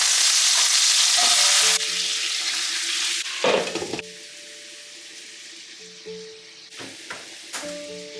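Loud sizzling of potatoes and green onions frying in a hot pan, with stirring scrapes and clinks, then the sizzle quiets as utensils tap against the pan.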